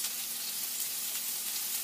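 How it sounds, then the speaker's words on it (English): Steady, crackling sizzle of burgers frying on a hot surface, a continuous hiss at moderate distance with no talking. "That sizzling you hear in the background is burgers cooking."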